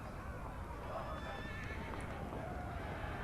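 Cavalry horses in the battle game Total War: Attila, a clear horse neigh or whinny over a dense, continuous rumble of hooves and battle noise, with voices mixed in.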